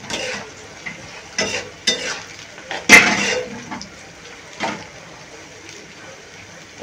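Biryani ingredients being fried and stirred in a pan, with scattered spoon scrapes and clanks over a soft sizzle, including one sharp louder knock, close by with quiet gaps between the strokes.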